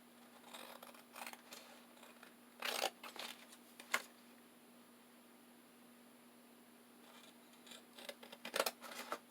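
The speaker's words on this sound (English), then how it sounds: "now when I cut around the edge of this, it's going to open it up" Scissors snipping around the edge of a laminated paper pocket page for a junk journal, heard as close, crisp bursts of cutting in short groups with quiet pauses between, no talking.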